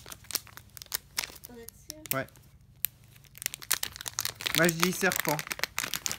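Plastic packaging of a light-up sound-making plush toy is torn open by hand, with repeated crinkling and ripping bursts close to the microphone, while people talk over it.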